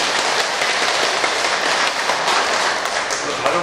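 Audience at a Buddhist dharma talk gives a brief, dense burst of applause, a steady wash of many hands clapping that lasts the whole moment at close range.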